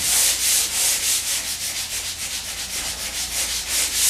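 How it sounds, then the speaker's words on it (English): Steady back-and-forth hand sanding of a drywall quickset patch, a continuous close scratchy rubbing with a regular stroke rhythm and no voices. "I can see where I need to sand a little bit more than other areas."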